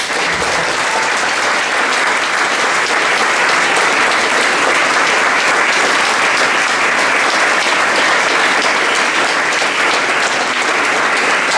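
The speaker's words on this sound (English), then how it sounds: "so please a round of applause" A crowd at an evening reading and music show applauds loudly and continuously, a dense, sustained wash of clapping throughout.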